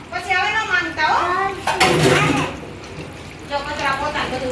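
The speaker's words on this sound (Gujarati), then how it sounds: "બહાર નો વાસણ ને બધું સાફ થાય છે" Dishes and utensils being washed at home, with clattering pots and running water in short bursts under someone talking in Gujarati.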